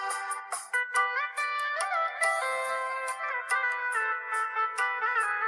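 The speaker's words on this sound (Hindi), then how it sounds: "फोन बज रहा है" A mobile phone ringing with a bright electronic melodic ringtone that plays on continuously in a steady, fairly loud run of short tonal notes, with no voices over it.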